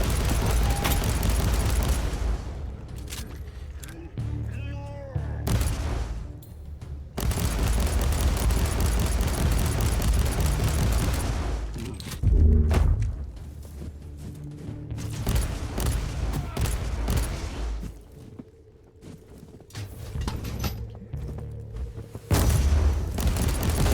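Ranged gunfire and heavy impacts in Warhammer 40,000: Inquisitor – Martyr: dense volleys and booming blasts roll on almost without a break, with only brief lulls between bursts.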